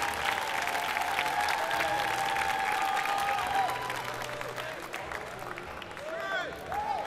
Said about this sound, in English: a big round of applause for Seoul